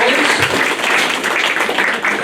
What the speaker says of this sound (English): Leandra Foster, give her a round of applause